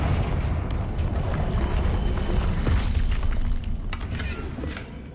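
A Confringo fire spell explosion in the Hogwarts Legacy video game: a deep, rumbling boom that sustains loudly for several seconds with crackling bursts on top, easing off slightly toward the end.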